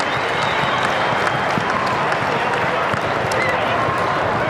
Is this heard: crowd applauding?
yes